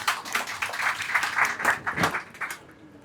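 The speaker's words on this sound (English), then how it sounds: "Big round of applause, Mohammed." Audience applause at a design portfolio critique night in Dubai, a short burst of steady clapping close by that tapers off after about two and a half seconds.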